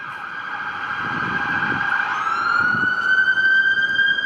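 An emergency vehicle siren wails over downtown Toronto street traffic at afternoon rush hour, a rising and falling tone that draws nearer and grows louder over a low rumble of cars.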